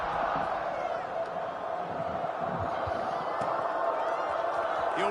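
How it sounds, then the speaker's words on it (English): A home crowd at a college football game between Hampton and Northern Arizona keeps up a steady, dense buzz of distant voices and cheering for the whole stretch, with no breaks, under a broadcast atmosphere. "this crowd is buzzing after that last score"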